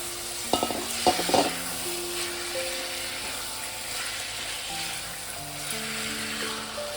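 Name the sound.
chicken pieces added to pan with cinnamon, frying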